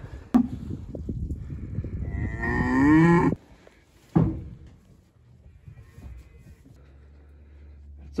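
A cow near her newborn calf on a farm gives a loud, drawn-out moo close by, with a shorter low call and scattered thumps and rustling around it.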